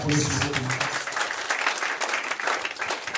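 Church congregation applauding, a loud sustained burst of many hands clapping throughout, with a voice speaking over the start.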